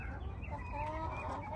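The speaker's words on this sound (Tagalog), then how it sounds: "Ito naman Guinea birds." Guinea fowl cluck and chatter softly nearby in a backyard, a continuous low murmur of bird calls over a steady background rumble.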